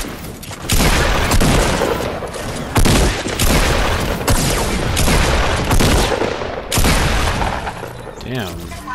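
Rapid gunfire bursts in a Fortnite battle royale match, loud and dense, with heavy booms and breaking sounds under excited talk.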